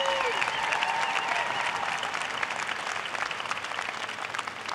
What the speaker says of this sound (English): Let's give another round of applause for our honorary degree recipient